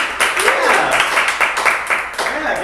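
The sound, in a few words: audience applause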